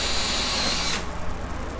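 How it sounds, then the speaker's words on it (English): A power drill whines at high speed as it pilot-drills a hole through a panel. The sharp, close burst lasts about a second and then cuts off, leaving quiet room noise. "he's going to pilot drill the hole just through the panel"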